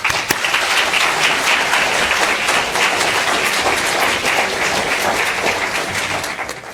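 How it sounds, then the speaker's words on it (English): Sustained applause from a large lecture audience at Bangor University, dense steady clapping throughout, loud and even from start to finish. "I'd like us to give a round of applause to our wonderful speaker here this evening"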